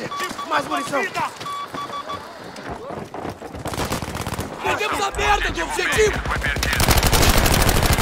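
Close-range gunfire in a shooter video game, rapid bursts of shots building louder toward the end, with excited talk over the first half.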